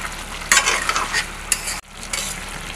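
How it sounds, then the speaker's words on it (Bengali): Mutton pieces stir-fried in a pan for Bengali goat curry, releasing their juices, with loud close sizzling and scraping stirs, a brief pause, then renewed frying hiss. "মাংসের জল বেরোচ্ছে, এই জলটা যতক্ষণ না শুকাবে ততক্ষণ কষাতে হবে।"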